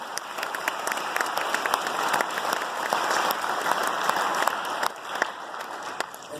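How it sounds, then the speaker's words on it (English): A crowd at a high school fall sports awards night gives the pep band, cheerleaders and dance team a steady round of applause. The clapping is dense and close, with sharp individual claps standing out. "we definitely need to give them a round of applause"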